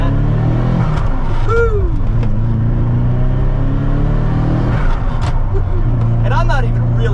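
A turbocharged restomod Ferrari Mondial accelerates with a steady, loud engine drone and rising pitch sweeps, while a driver talks and whoops over it.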